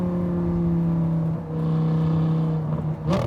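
A modified Lamborghini Gallardo LP560-4 V10 drones loudly and steadily from inside the car, easing briefly midway before surging again at the end.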